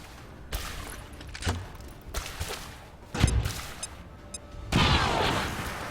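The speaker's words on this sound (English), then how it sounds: "Die by a grenade, please." Explosions and gunfire in the video game XCOM 2 on Legend Ironman difficulty: several sharp booming blasts at irregular intervals, then a longer, louder rumbling burst near the end, with no talking.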